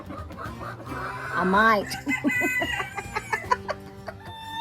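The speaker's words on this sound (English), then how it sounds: "Am I gonna have 4 broody hens by the end of the day?" Broody hens on a Tennessee homestead cluck in short, uneven bursts close by, with a rooster-like crowing call early on and a person speaking briefly over the birds.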